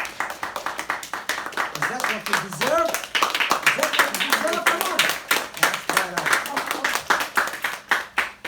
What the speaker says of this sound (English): Give yourselves a hand of applause.